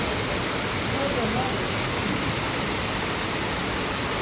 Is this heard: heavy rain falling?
yes